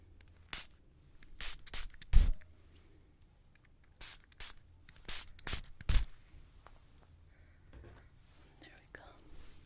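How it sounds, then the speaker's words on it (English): Nurturing spray applied in an ASMR beauty salon setting: a series of short, close pump-spray bursts with pauses between, accompanied by soft whispering. "I was gonna apply a nurturing spray on you."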